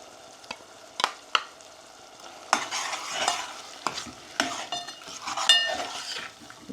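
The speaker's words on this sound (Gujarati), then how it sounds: "ચાલો તો હવે નાખી દઈએ ટમેટામાં મસાલો." Spice mix being stirred into tomatoes cooking in a pan, with scattered scraping and clinking strokes of a utensil over a soft sizzle, loudest in the second half, no talk.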